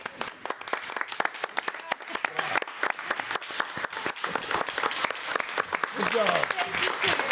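Applause at a regular board meeting: many scattered hand claps from the room, fairly close and steady for several seconds, growing denser near the end, with voices talking over them.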